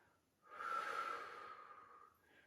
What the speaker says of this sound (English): Breath in as you come back. Breathing out.